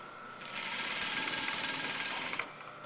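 A sewing machine stitches along a blouse edge in one continuous burst of fast, close, buzzing whir lasting about two seconds, with quiet room noise before and after and no talking.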